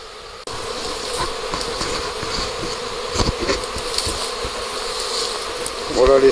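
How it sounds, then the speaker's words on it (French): A huge honeybee swarm fills the air around a quince tree in spring, making a dense, continuous buzzing hum. Individual bees pass close to the microphone with louder buzzes, and a short, louder burst comes near the end. "Il y a encore des millions d'abeilles en l'air."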